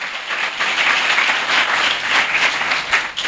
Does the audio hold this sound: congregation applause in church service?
yes